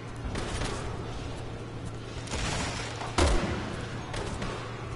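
A single sharp sniper rifle shot in a Resident Evil game cracks out with a low thump partway through, standing alone above a quiet, murmuring game background.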